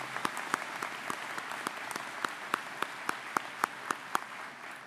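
Applause from an audience at a spring commencement ceremony, a steady wash of many hands clapping with sharper individual claps standing out throughout, at moderate distance and without talk over it.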